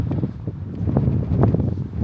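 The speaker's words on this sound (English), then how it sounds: "It's very windy." Strong wind blows outdoors, buffeting the microphone in uneven low gusts and rustles for a couple of seconds, with no talk.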